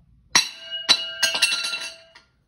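Metal parts of a pottery banding wheel clank and ring as they come apart, a few bright clattering hits with a lingering chime, close and loud.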